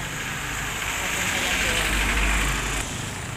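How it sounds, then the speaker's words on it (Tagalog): Steady roar of many vehicles passing along a barangay street, loud and continuous with a deep engine rumble swelling near the end as a heavier vehicle goes by. "Ang daming sasakyan dumadaan."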